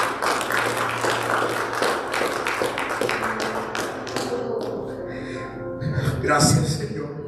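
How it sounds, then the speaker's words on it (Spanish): A church congregation claps for a few seconds, a quick rhythmic patter of hands that fades out as a voice speaks. "Denle un fuerte aplauso al Señor."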